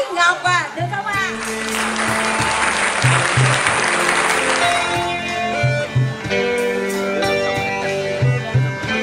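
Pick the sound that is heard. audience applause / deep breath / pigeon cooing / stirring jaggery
audience applause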